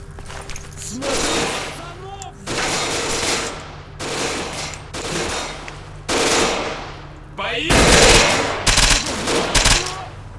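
An old-school AK rifle fires in the shooter Oblivion Lost, in several close, loud bursts of automatic fire separated by short pauses, with a voice talking between and over the bursts.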